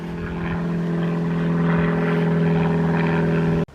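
A propeller aircraft drones overhead above a woodland walk near Crewe, a loud steady engine hum with a buzzing propeller tone that holds for several seconds before cutting off abruptly.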